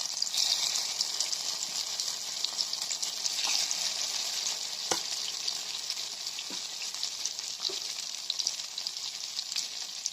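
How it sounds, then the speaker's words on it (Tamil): Vermicelli and egg paniyaram batter sizzles steadily in a paniyaram pan over a low flame, a continuous close frying hiss with a few soft clicks and taps, and no voices. "இதில் நம்ம கலந்து வச்ச கலவையை பணியாரமாக ஊற்றிக்கலாம்."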